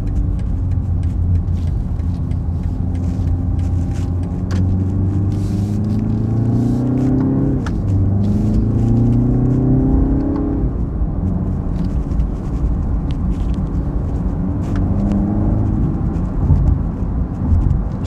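A BMW 330i (G20 3 Series) four-cylinder engine revs up and down repeatedly, its pitch climbing and falling in waves, loud and close, with no voices.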